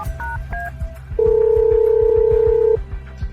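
A phone call rings out unanswered: a few quick dialing beeps, then a long steady ringback tone over a rhythmic dramatic music beat, close and clear with no speech.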